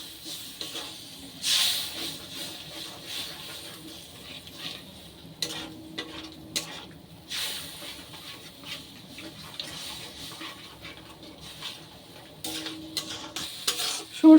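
Mustard paste and tomato bubble and hiss softly in a pan while a spoon stirs and scrapes in gentle bursts, close but fairly quiet, with soft clinks and pauses between strokes.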